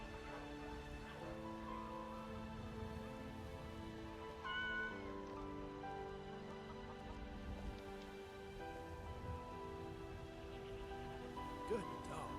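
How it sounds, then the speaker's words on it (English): A cat meows a few times in The Elder Scrolls V: Skyrim over steady game music and background ambience, fairly soft in the mix. "Gotta pet the cat."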